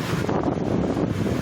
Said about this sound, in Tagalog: Grabe yung hangin eh.